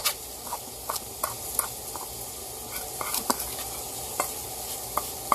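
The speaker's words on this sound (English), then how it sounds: "Mix it together." A spoon stirring a dry mix of brown sugar, white sugar and cocoa in a bowl, making close, repeated gritty scraping taps in an irregular rhythm, with no talking.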